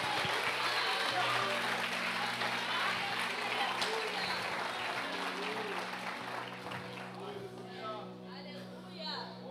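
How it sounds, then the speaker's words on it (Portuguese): Church congregation at a Sunday service applauds and cheers, a full crowd roar of clapping and voices that gradually fades, with sustained tones sounding underneath. "Quem pode aplaudir e vibrar com ele?"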